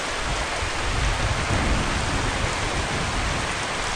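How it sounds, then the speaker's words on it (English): Heavy rain with rolling thunder from a Godot-built 3D game weather system on a tropical island, a dense, loud, continuous roar of downpour that never lets up. "What do you reckon of the thunder though?"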